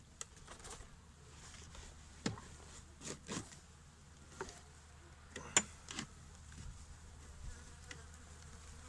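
Honeybees buzz faintly and steadily around a hive during a winter inspection, with scattered soft knocks and taps close by and no talk.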